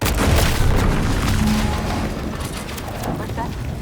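A deep, rumbling explosion from The Outer Worlds 2 fills the scene with a loud boom that fades into a long, dense roar of debris and low rumble.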